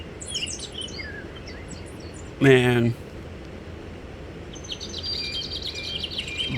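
Bird-song ringtone playing on an HTC Windows Phone: repeated high chirps and trills, interrupted midway by a short spoken word, then resuming with brighter twittering calls.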